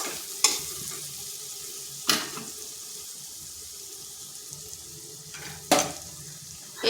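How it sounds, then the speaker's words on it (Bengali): Spice paste sizzles steadily while being fried and stirred in a pan for a Bengali doi katla fish curry, with three sharp clanks of a utensil against the pan standing out over the hiss. "মশলাটা একটু কষে নিচ্ছি।"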